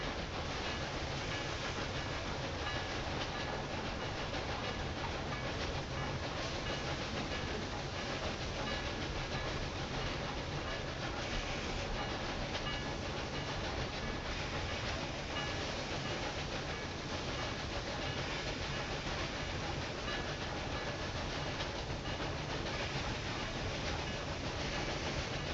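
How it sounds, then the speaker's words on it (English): Cargo trains rolling through the Railway Empire 2 game world, a steady continuous rumble of rail wagons and clattering track noise with no pauses, moderately loud throughout. "So all the trains we see up ahead are cargo trains"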